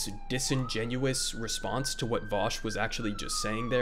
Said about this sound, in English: apologize for the ambulance noise going on in the background